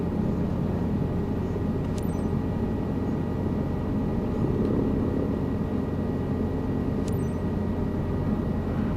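A helicopter in Microsoft Flight Simulator 2024 flies a right-hand traffic pattern, giving a steady, dense rotor and engine drone that holds at an even level throughout with no speech.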